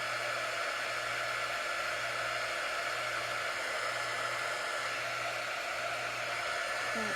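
A hair dryer runs steadily and close by for about seven seconds, blowing on small wet dots of paint on a carrot-shaped craft piece, with an even, unbroken whoosh and no speech.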